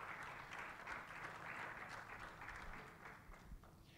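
Applause from the audience at a certification ceremony, as graduates from Sucre and Potosí are introduced one by one; steady, fairly soft clapping that thins slightly toward the end, with no talk over it.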